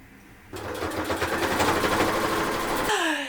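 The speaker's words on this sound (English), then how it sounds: "then it was time to sew it together" A sewing machine stitches a sleeping bag being made into a coat, a fast, even rattling hum that starts abruptly and runs for a few seconds before stopping, heard alone and up close.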